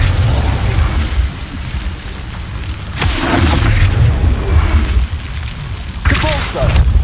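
An Incendio fire spell goes off in the Hogwarts Legacy video game, with two loud booming bursts over a continuous rumbling background and a voice calling out nearby.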